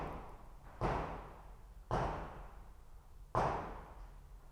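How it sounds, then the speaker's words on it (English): Fireworks go off in three separate sharp bangs spaced about a second apart. Each one hits suddenly and then fades over a long tail, heard alone with a faint background hiss. "Let's take a quick firework break"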